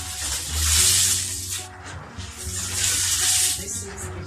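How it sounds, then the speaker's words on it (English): Water from a tap pours into a bowl of beans for washing, two loud close splashing surges with a short pause between, broad and hissing. "So I'm just going to add some water to it and get down to business."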